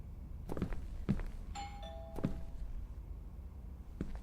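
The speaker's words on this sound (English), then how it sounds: "I should ring the doorbell, see if he answers." Doorbell in the video game Within, a short electronic chime heard once amid faint thumps and low background ambience, fairly quiet and alone without talk.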